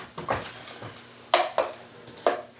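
A spoon scoops thick homemade banana baby food into ice cube trays, making several short soft scrapes and clicks against the tray, close by with pauses between them.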